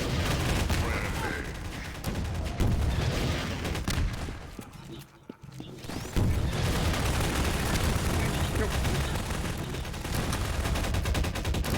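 Sustained rapid gunfire in a Source engine multiplayer shooter, loud and dense with bursts, a brief lull near the middle, then continuous shooting again, with occasional voices mixed in.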